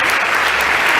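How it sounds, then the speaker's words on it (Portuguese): A church congregation bursts into sustained applause, dense, even clapping filling the whole moment at a steady loud level with no gaps or voices standing out. "Uma salva de palmas ao Senhor."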